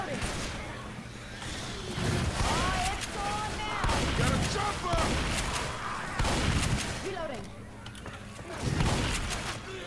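Shotguns blast repeatedly in Left 4 Dead 2 zombie fighting, loud sharp booms at irregular intervals mixed with other gunfire, with people talking in the background.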